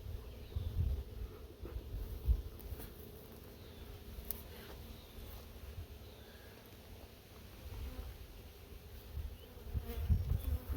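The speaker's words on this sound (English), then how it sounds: "Oh, there's a bunch of bees in that box." A swarm of bees buzzes steadily inside a box, a continuous close insect drone with faint rustling, no talk.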